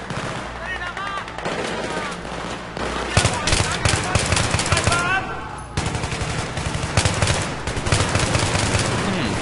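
Battlefield 3 combat with dense automatic gunfire and single shots crackling over a continuous backdrop of battle noise, loud and close, with someone talking over parts of it.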